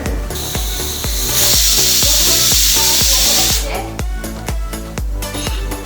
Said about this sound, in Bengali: আমি এখানে শিলনোড়াতে বেটে নিচ্ছি